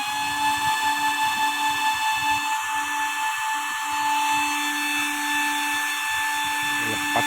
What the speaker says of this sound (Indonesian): Ini kipasnya super high speed ya,